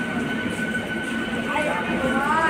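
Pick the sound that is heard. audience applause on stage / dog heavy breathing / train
train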